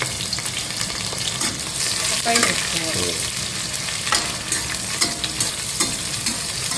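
Onions frying in hot oil in a pan for biryani give a steady, close sizzle, with scraping and clinking from stirring scattered throughout.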